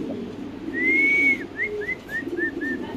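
A pigeon at a pigeon seller's gives one long drawn-out coo followed by a run of short repeated coos, close and clear over a low background hum.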